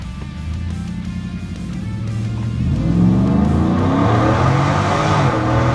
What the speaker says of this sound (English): I'm gonna line it up and do a four-wheel drive again, but I'm gonna not launch it so hard